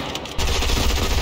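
Rapid automatic gunfire in the Fortnite video game, a dense continuous burst that starts abruptly and stays loud and close to the end.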